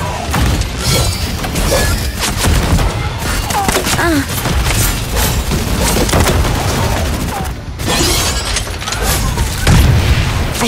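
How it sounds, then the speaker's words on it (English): Dense, continuous video-game gunfire with booming bursts and crashes throughout, loud and chaotic, with faint voices mixed in. "Nada, I hear gunfire. Keep your eyes sharp."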